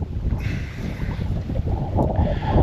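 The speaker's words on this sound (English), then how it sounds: "So right now it is windy out of the north a little bit" Wind from the north blows steadily at a lakeside campsite, rushing and buffeting against the microphone as a continuous low roar that swells a little toward the end.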